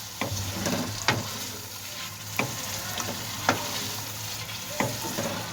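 Chicken karahi sizzles steadily as yogurt is stirred in, with a spoon scraping and tapping against the pan at a slow, regular beat. The sound is close and there is no talk.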